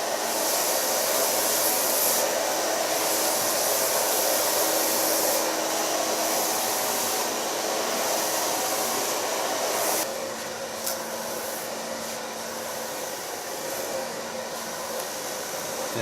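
A hair dryer blows steadily while hair is being blow-dried, a loud continuous whooshing roar that shifts slightly in tone partway through as the dryer moves, with no talking over it.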